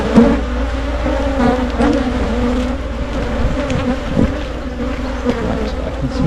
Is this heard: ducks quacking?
no